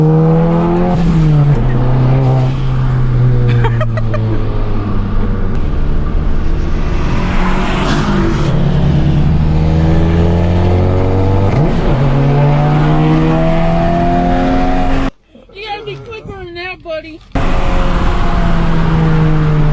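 A Volkswagen Golf MK7 takes a street corner fast, its engine loud and revving through rising and falling gear sweeps with tire noise, heard from inside the car, cut by a short break near the end.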